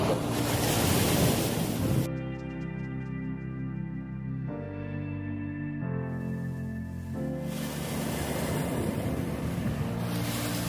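Ocean waves wash steadily onto a beach at sunrise on the Outer Banks, a loud continuous surf roar with wind buffeting the microphone and no talk.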